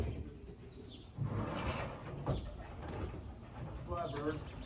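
Young racing pigeons coo and flap their wings outdoors in a steady, busy wash of wingbeats and soft calls, with a few chirps near the end.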